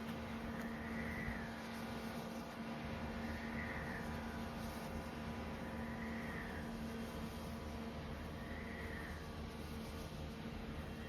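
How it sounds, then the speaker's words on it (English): Wind turbines on a still day make a faint, steady low hum, with a soft whooshing swell returning about every two and a half seconds as the blades pass, heard from a distance outdoors. "That's not the wind from the weather. That is these windmills"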